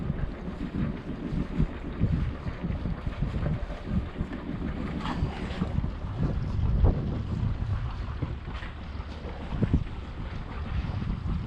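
Northwest wind rushes steadily across the microphone aboard a sailboat in a mild harbor on a sunny day, with low water noise beneath and occasional louder gusts.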